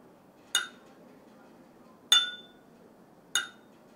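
Undamaged and damaged glass struck to excite vibration, giving three separate sharp clinks with brief ringing decay, spaced over a few seconds against a quiet background.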